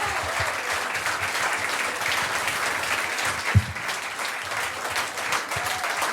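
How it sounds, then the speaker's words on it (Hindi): Audience at a comedy crowdwork show breaks into loud, sustained applause, a steady dense wash of clapping lasting several seconds with a brief sharper clap burst near the middle. "तो मैं एक बार ही चाहता हूँ ज़ोरदार तालियां उस शख्स के लिए हो जाए।"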